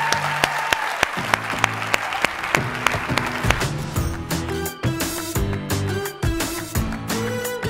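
Audience applause at an engineering awards ceremony, dense clapping with music playing underneath, thinning out as the music swells.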